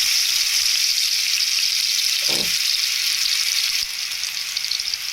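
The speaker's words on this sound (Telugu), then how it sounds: "ఇప్పుడు ఆయిల్ వేడైపోయింది. మసాలా ముద్దలను వేసుకుంటాము." Masala paste of onion, ginger and garlic hits hot oil and sizzles loudly and steadily, with a brief low thud partway through.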